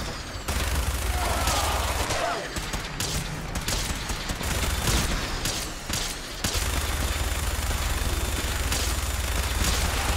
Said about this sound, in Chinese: 因为是用旋转机枪的。